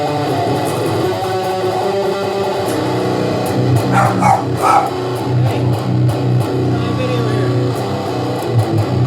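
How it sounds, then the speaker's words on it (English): A dog barks several times in the background of an indoor room while someone talks over it, the barks coming in short bursts. "Sorry about the dog barking."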